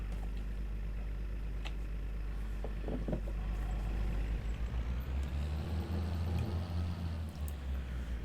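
A 6920S tractor engine in Farming Simulator 22 runs as a steady low diesel rumble, holding throughout with a slight rise in the second half, joined by a few faint clicks and rattles, and no one speaking.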